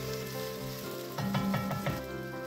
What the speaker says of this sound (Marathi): आपण त्याच्यात कांदा परतून घेतलेला आहे आणि हा कांदा आपल्याला मस्तपैकी लाल करून घ्यायचा आहे